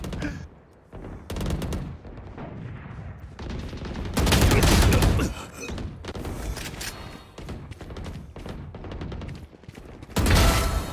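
Dense bursts of rapid gunfire and rifle shots from a Valorant esports match at VCT Champions, loud and sustained with brief pauses between volleys, under faint voices.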